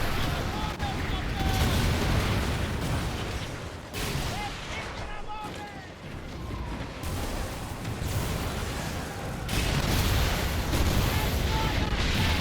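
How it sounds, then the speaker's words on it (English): Ship explosions and cannon fire in the pirate naval video game Skull and Bones, dense repeated booms over a constant roaring wash of sea and battle noise, loud and continuous, with a voice talking over it. "Yeah, see where the explosions go?"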